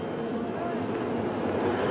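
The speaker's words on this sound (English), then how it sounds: "as they come roaring up to the first turn" Race cars at the start of the 1993 Bathurst 1000 at Mount Panorama, a dense, sustained engine roar filling the whole clip with steady loudness and no pauses.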